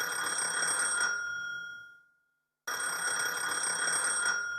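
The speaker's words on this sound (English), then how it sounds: "you see the phone ringing" A telephone bell rings in two bursts, a loud steady trill that cuts off into a brief silence and then starts again.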